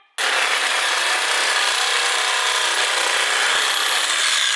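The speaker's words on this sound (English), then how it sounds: "So the wrenches aren't working, so the sawzall we know will do the job." A Sawzall reciprocating saw fitted with a wood blade cuts off an engine part during a V6 swap, starting abruptly and grinding loud and steady throughout, a continuous harsh rasp with no pauses or voices.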